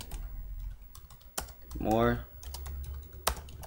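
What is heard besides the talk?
typing fast on a computer keyboard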